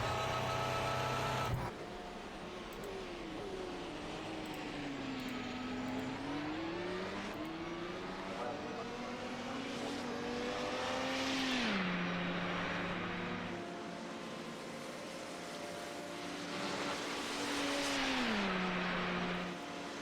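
Hybrid LMP1 sports prototype race car at a Belgian circuit, a loud engine note rising and falling through repeated acceleration sweeps and gear changes, held close for the whole stretch.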